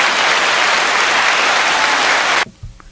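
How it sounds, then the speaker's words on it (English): Dense applause from a crowd fills the space loudly and evenly for a couple of seconds, then cuts off abruptly, leaving near quiet. "So that definitely deserves an applause."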